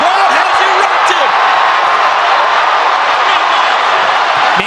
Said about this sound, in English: This crowd has erupted!